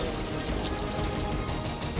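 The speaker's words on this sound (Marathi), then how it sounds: "चिपळूणमध्ये मुसळधार पावसाला सुरुवात" Heavy monsoon rain pours steadily in Chiplun, Maharashtra, a dense, continuous broadband hiss that holds evenly loud throughout without pause or voices.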